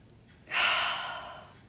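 A single deep inhaled breath taken slowly through the airway, soft and close, rising and then fading over about a second.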